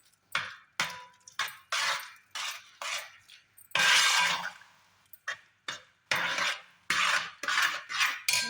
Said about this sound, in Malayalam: ഇനി ഇതൊന്ന് നന്നായിട്ടൊന്ന് ഇളക്കി കൊടുക്കാം